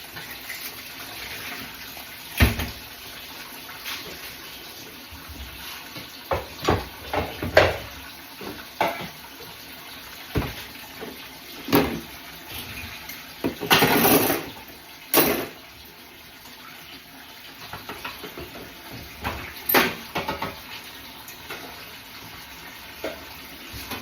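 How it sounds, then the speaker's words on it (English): Cold water tap running in a garden to fill a dog's bowl, an intermittent splashing and gushing with clatters and surges of flow over a quiet outdoor background. "I'll just run off the cold water so I can fill the bowl up."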